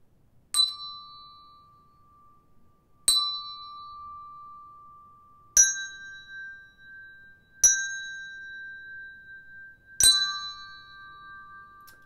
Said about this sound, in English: I've got some bells.